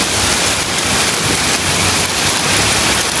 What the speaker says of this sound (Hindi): ओले स्टार्ट हो चुके हैं।